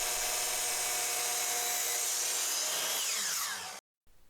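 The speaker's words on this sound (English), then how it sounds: "I was able to change the orientation of the blade to make the cut" Chop saw cutting mitered ends on a table apron, a loud high-pitched whining blade spinning steadily, then winding down before cutting off abruptly near the end.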